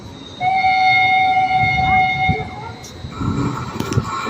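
Passenger train at a Slovak railway station, its horn sounding as a long steady two-tone blast over the rumble of the train and platform noise, with station announcement talk nearby.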